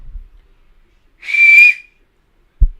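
A single clear, steady whistle of about half a second rings out as a person calls a dog named Snoo indoors, preceded by faint rustling and followed by a brief low thump.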